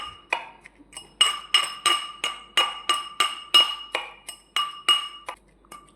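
Garlic and chili are pounded into a paste, a rapid steady run of sharp clinking strikes, roughly three per second, close and loud with brief pauses and no talking.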